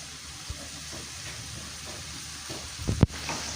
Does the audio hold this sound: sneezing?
no